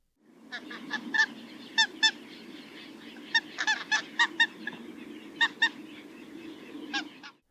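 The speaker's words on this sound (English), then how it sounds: "barnacle geese calls found two main call types" A flock of barnacle geese honking, sharp repeated two-toned and harmonic yelping calls rising over a steady background chorus of more distant geese.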